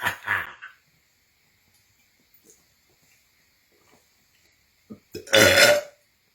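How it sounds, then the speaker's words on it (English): Big, loud belches from a man, close to the mic: one short burp at the start, a long quiet gap, then a couple of small croaks leading into a long, deep, rasping belch near the end. "all-time burps."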